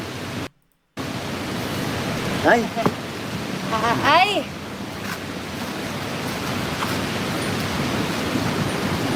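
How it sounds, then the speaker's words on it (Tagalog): Strong typhoon wind roars steadily with sea waves surging at the shore, a dense, loud wash of noise broken by brief shouted exclamations from a voice. "may bagyo nga po. Tapos nandito pa kami sa dagat."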